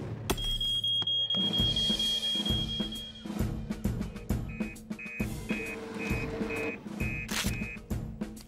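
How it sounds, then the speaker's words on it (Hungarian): A fire alarm rings out in a Fireman Sam cartoon scene, a steady electronic tone joined by repeated beeping pulses over busy cartoon music and effects. "Újabb téves riasztás, ez egész biztos."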